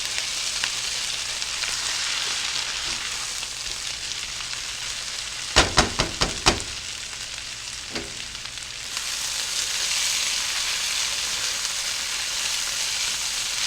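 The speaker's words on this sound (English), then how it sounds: "about 1 to 2 teaspoons of minced garlic and let that cook down with the onion for the next few minutes" Minced garlic and onions sizzle steadily in a skillet for French onion smothered pork chops. A close, even frying hiss runs throughout, broken midway by a few quick metallic utensil clinks against the pan.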